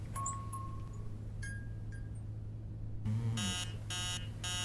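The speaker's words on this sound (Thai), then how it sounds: "ตอนนี้นาฬิกาปลุกดังขึ้นมาแล้วตีสาม" An electronic alarm clock in a horror video game beeps in repeated bursts after a few faint chimes, over a steady low background hum.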